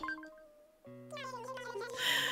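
A cat villager in Animal Crossing: New Leaf speaks in short, chirpy, meow-like synthetic babble, rising in pitch toward the end, with no other voices.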